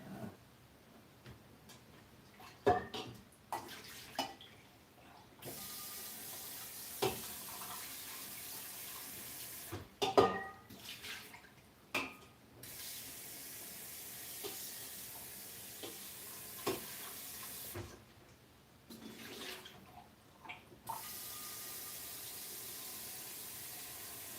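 Tap water runs intermittently into a cooking pot being filled to cook barley, a steady splashing flow broken by clinks and brief pauses, close by and moderately loud with no talking.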